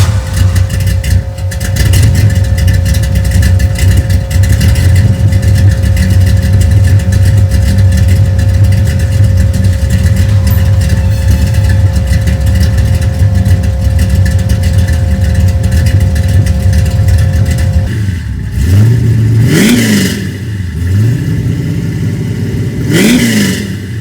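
Project car with a new exhaust idling loudly up close, with a steady low rumble for most of the time, then a few sharp revs near the end that climb and fall back, with no talking.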